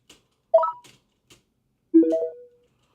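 Two short electronic beep tones, one after the other, like phone buttons being pressed, with faint clicks around them in a quiet setting.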